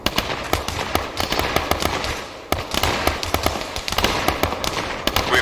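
Arma 3 military-simulation gunfire: rapid, loud bursts of shots crackle in dense overlapping volleys, some sharp and near, others distant, with hardly a pause over several seconds.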